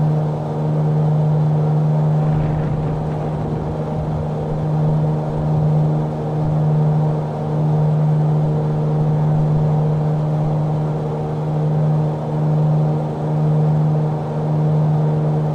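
The piston engine of a Mooney M20R Ovation drones steadily in Flight Simulator 2020, a loud continuous hum with a gently pulsing beat that holds for the whole stretch, and no voices over it.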